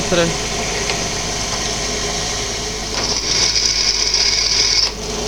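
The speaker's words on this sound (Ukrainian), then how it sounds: "Насверлю отворів. Спочатку діаметром 4 мм." A drill boring 4 mm holes in metal for welded stool-leg mounting tabs gives a steady close whine, rising to a sharper high-pitched grind partway through, with a voice talking over it.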